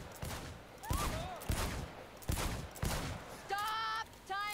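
Gunfire at a shooting range in Cyberpunk 2077, several sharp shots spaced irregularly, with talk and a short beeping tone near the end.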